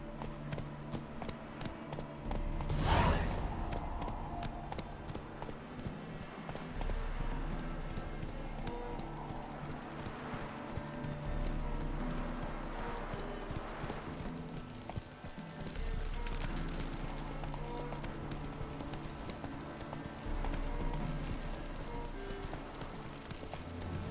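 A horse gallops in The Witcher 3, its hooves clip-clopping in a steady rhythm over the game's ambient background, moderately loud and continuous for the whole stretch.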